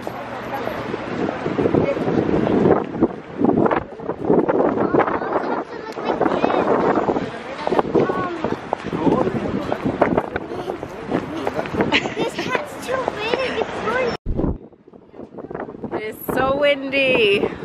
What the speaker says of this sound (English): Windy. Hold on to your hats